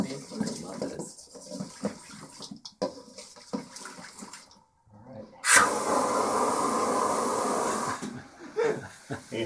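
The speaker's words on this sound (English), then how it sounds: "Can you hear like sizzling in there?" A steady hissing sizzle of liquid nitrogen while making ice cream runs loud for a few seconds after scattered talk and handling noises, then cuts off as voices return.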